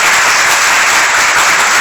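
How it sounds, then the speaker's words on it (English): Loud, dense applause fills a Super Bowl 51 radio row broadcast as a crowd gives a sustained, roaring round of clapping close up, with no pauses. "A roaring round of applause for Mr. Wick"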